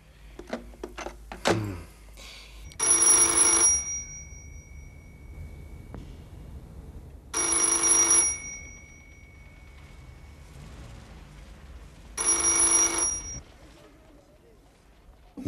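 An old telephone bell rings three times in evenly spaced bursts, loud and metallic, with quiet pauses and a few faint clicks before the first ring.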